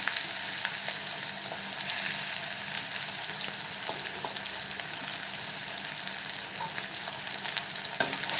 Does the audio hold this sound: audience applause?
no